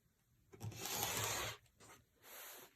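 A quilt corner is trimmed on a flat surface at a kitchen table, giving two quiet, close scraping cuts, the first longer and the second shorter, in an otherwise silent room.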